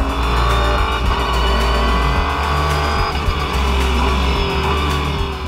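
Renault Sport RS01 race car braking hard into Stowe corner at Silverstone, a loud close engine note with downshifting blips and tire noise throughout.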